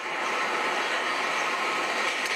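A train rushing past beside a road, a steady broadband roar that stays loud and unbroken for the whole stretch with no voices.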